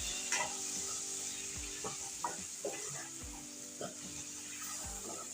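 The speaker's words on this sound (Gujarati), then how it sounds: "હવે બધો મસાલો આપણે સરસ રીતના મિક્સ કરી લઈશું" Drumstick curry being stirred as masala is mixed through it in a sizzling pan, with scraping strokes at a steady pace over a constant frying hiss, close up.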